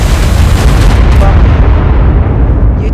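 Spirit Griffin attacking in ARK Survival Evolved, a loud, heavy booming blast that rumbles on for a few seconds and thins out toward the end.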